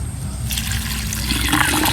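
Water pours steadily into a bamboo tube used as a cooking pot for sinigang outdoors, a close, continuous splashing rush that starts after a brief pause and keeps flowing to the end.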